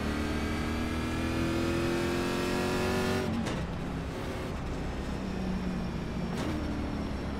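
NASCAR Xfinity race cars at Charlotte Motor Speedway in the iRacing sim, a pack of engines droning steadily at high revs, with pitch sweeps as cars pass close by around the middle and again near the end, no talk.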